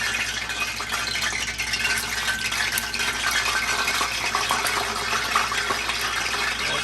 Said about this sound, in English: I just sprinkle a little water in it.